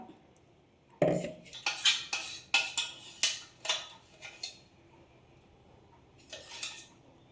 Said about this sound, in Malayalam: അതും കൂടി നമുക്ക് ഇതിൻ്റെ അകത്തേക്ക് മിക്സ് ചെയ്ത് കൊടുക്കാം